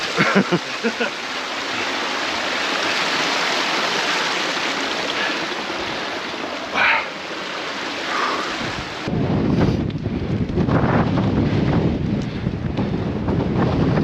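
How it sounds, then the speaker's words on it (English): Strong wind buffets the microphone in a loud, continuous roar while wild camping, with a sharper gusty burst near the end. "That wind is brutal."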